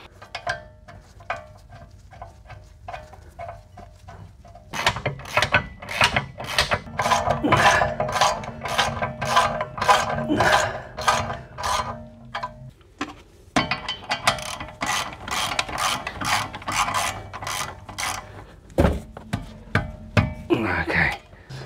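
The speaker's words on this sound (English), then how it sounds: "And now I'll just put the two bolts back." Ratchet tightening the caliper bolts on a Holden Cruze during a brake pad change, a rapid run of sharp clicking strokes in bursts with brief pauses, close and loud.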